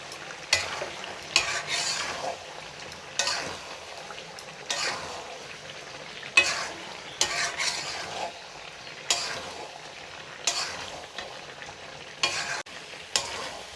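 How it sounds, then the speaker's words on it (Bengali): Chicken curry with potatoes being stir-fried in a pan, with repeated scraping stirs at a steady rhythm over a soft, continuous sizzle, close and moderately loud, with no voices. "মাংসটা সিদ্ধ হয়ে গেছে, এখন আমি এটা কষিয়ে নিব"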